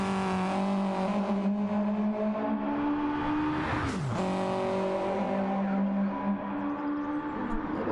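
Race cars in the video game Gran Turismo 7 drive continuously with steady engine drone and shifting revs, including a sharp pitch swoop midway, loud and sustained throughout.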